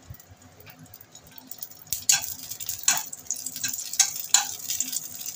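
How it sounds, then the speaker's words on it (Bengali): Slit green chillies fry in hot oil, a quiet sizzle that turns into sharp spattering pops and crackles about halfway through, several bursts close together, with no voices. "কাঁচা লঙ্কা ফাটাটা আমি ভেজে নেব"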